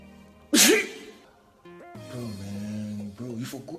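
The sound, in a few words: sneeze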